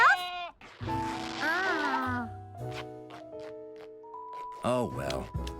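Cartoon goats bleating in a child's bedroom, several wavering animated bleats that come and go between stretches of music and voices.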